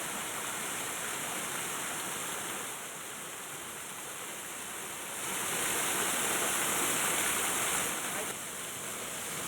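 Rainwater from the hillside at Parashuram Ghat in Ratnagiri rushes down a concrete drainage channel during the first rains, a loud, continuous roaring wash that swells partway through and stays close and unbroken.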